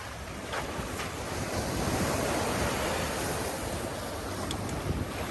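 Ocean waves wash steadily against the shore near boats bound for Catalina, a continuous broad surf roar with some wind buffeting the microphone, swelling slightly in the middle, no talking.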